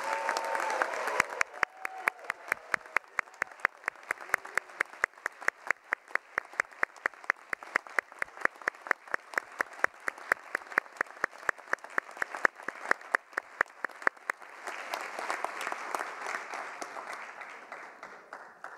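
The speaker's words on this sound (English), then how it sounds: "Please join me in a final gigantic round of applause for our graduates." Sustained audience applause for graduates at a Duke Engineering hooding ceremony, with a steady rhythmic clap running under the ovation, which swells again near the end.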